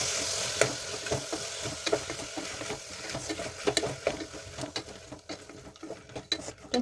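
Tomatoes frying in a pan while being stirred, with steady sizzle and scattered clinks of a utensil against the pan, close and moderately loud, no talking.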